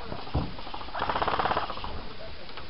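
Airsoft guns fire cover fire in rapid, close, clattering bursts lasting a couple of seconds, with a shouted voice heard over them.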